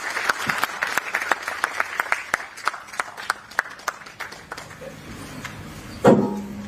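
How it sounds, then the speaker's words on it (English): Applause following a moving speech at a forum on HIV, teenage pregnancy and gender-based violence, a thin scattering of distinct claps in steady rhythm that thins out, ending with a louder thump near the close. "A round of applause again"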